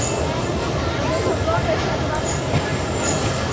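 A large train pulls into Bhanga station with a steady, loud rolling rumble and rail noise throughout, while voices can be heard over it.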